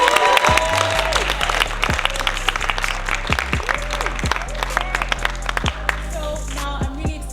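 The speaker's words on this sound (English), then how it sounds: "Another round of applause," A theatre audience applauds, dense continuous clapping with some cheering, loud and close, as a low tone with occasional sliding pitches sounds underneath.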